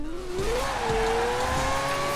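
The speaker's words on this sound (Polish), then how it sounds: "Rotacyjny silnik" A Mazda RX7 with a rotary Wankel engine in Forza Horizon 4 revs up as one car accelerates, its buzzy engine tone climbing steadily and loudly through about two seconds with no talking.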